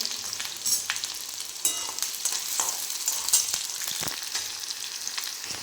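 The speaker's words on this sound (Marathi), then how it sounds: "आता आपण कांदा टाकून घेऊया। कांदा छान लालसर होईपर्यंत भाजून घेऊया।" Chopped onions fry steadily in a hot pan until reddish for a quick potato curry, giving a continuous close sizzle with occasional stirring scrapes and no voices.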